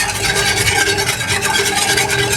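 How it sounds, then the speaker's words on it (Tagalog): Kimchi ingredients with brown sugar are mixed in a pan, producing a steady, close rasping and rubbing stir with a soft sizzle underneath, no voices. "Mix well to combine all our ingredients."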